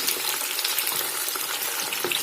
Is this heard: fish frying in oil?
yes